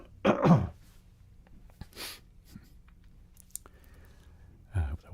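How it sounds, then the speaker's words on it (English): A short, close throat clearing rasps out, followed by faint clicks and a breath, then another brief gruff throat sound near the end. "Clear my throat."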